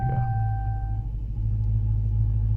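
A 2019 Dodge Charger R/T's engine fires up and settles into a deep, steady rumbling idle, heard close from inside the car, with a brief chime fading early on.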